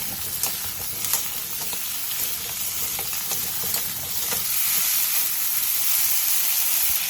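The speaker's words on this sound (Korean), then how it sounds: "팬에 기름을 두른 뒤 감자를 넣고 센 불에서 볶아주세요." Potatoes stir-fry in oil in a pan over high heat, giving a steady loud sizzle and crackle with occasional stirring scrapes and no talking.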